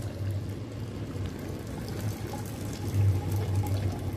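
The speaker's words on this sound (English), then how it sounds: "Now decant the liquid in this way in another beaker" Liquid is decanted from one laboratory beaker into another during a cotton wool absorbency test, giving a soft, continuous pouring trickle close by that swells slightly near the end.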